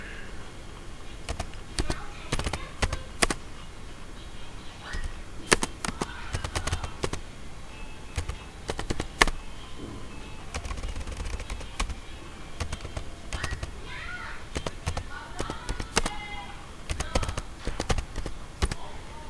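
Fingers tap out item codes on a computer keyboard while entering products in supermarket billing software, producing irregular bursts of light, close clicks with short pauses, and someone talks quietly at times.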